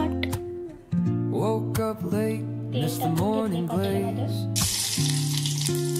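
Cumin and mustard seeds crackle and sizzle in hot oil for a Maharashtrian-style potato bhaji. Steady tonal music plays throughout, with a bright, loud hiss of frying rising over it in the final second.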